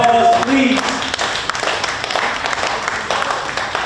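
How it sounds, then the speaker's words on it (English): At a fundraising event, an audience applauds a county commissioner candidate, scattered clapping building into a steady round while voices and a brief tone sound near the start. "Give him a round of applause, please."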